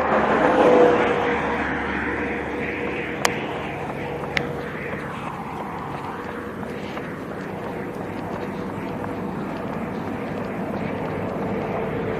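Steady road noise of large vehicles rolling past on a mountain road, a continuous broad rumble and hiss heard from inside a moving vehicle, with a couple of faint clicks and no clear passes standing out.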